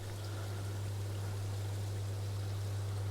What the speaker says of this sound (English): Tuck yourself away and another water feature.